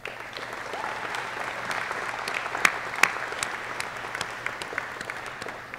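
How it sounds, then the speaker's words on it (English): Steady applause from an audience at a U.S. Army Captain's Career Course graduation, moderately distant and sustained for several seconds, with a few sharper individual claps standing out. "but give them a round of applause."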